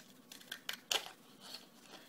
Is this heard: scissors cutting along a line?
yes